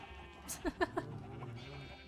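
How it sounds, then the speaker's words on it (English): Sheep in a Minecraft world bleat three times in quick succession, short wavering cries close by with a faint background tone. "I should actually breed some of these sheep."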